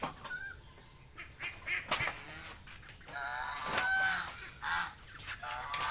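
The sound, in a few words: pet ducks and geese being fed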